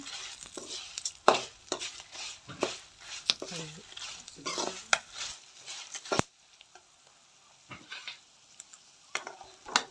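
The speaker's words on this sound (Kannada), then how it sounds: "ನೋಡಿ, ಚೆನ್ನಾಗಿ ಫ್ರೈ ಆಗ್ತಾಯಿದೆ." Sambar seasoning fries in a pan, a soft sizzle under frequent scraping and stirring clinks of a utensil against the metal, with a voice talking through the first half before the sizzle carries on more quietly alone.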